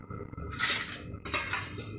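A metal cooking pot holding a steamed egg dish is opened, its lid scraping and clinking against the rim in a couple of close metallic clatters, with no talk.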